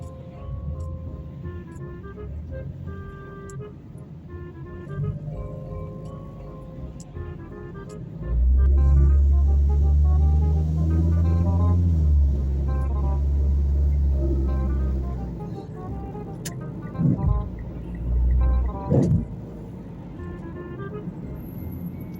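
Night city traffic on the road toward a city center, a steady low rumble of cars and vehicles with a heavy engine passing close by in the middle, then brief louder pulses, while people talk over it.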